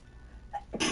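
A single sharp sneeze bursts out at the end after a quick inhaled breath, close and loud.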